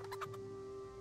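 Chickens in the medieval game Kingdom Come: Deliverance give a few short gobbling, clucking calls in quick succession over a steady tonal hum, then fade into quiet ambience.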